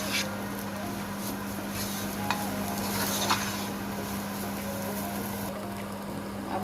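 A spice masala cooks in a pan for resha kabab, giving a soft continuous sizzle over a steady low hum, with a couple of faint clinks from the spoon.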